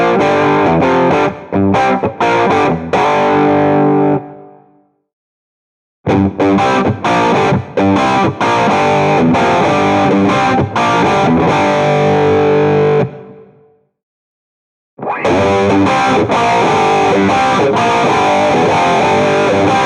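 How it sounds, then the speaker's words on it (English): Heavily distorted electric guitar chords through an OCD overdrive with overscream in Amplitube 5 chug in bursts, thick and saturated, stopping abruptly twice before resuming, with no voices. "If you want truly heavy distortion, you can additionally activate overscream with switch 1"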